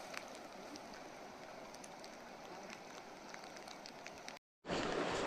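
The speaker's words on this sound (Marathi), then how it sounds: "पाऊस आला रे आता" Rain falls steadily beside a flooded river, a soft, even hiss with scattered drop patter that runs throughout, cuts out briefly near the end, then returns louder.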